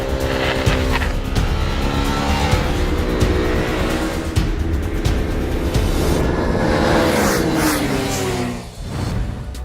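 Small 2015 sport motorcycles, a KTM RC390, Yamaha YZF-R3, Honda CBR300R and Kawasaki Ninja 300, ride on a racetrack, their engines loud and close as they rev and climb in pitch, then dip briefly near the end.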